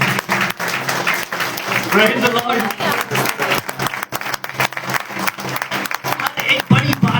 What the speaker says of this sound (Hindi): तालियां आपकी बड़ी होनी चाहिए।